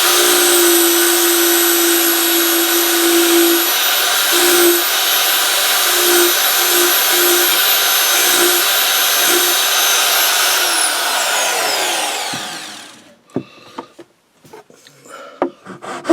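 A hand file rasps steadily across wood, a continuous loud scraping that runs for about twelve seconds with small breaks, then stops abruptly and gives way to a few scattered knocks and handling clicks.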